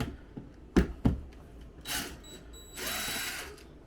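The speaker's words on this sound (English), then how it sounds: "the first thing you have to do is find a power drill" A power drill fitted with a long Phillips extension bit, used while installing a motion-sensor light switch, gives a brief whirring burst after a couple of sharp knocks and handling noises.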